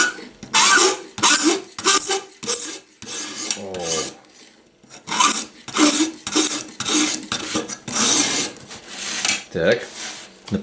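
Harsh metallic scraping comes from scissors being sharpened on a homemade sharpener held against a table edge. Repeated rasping strokes, close and loud, pause briefly midway before resuming in a steady rhythm.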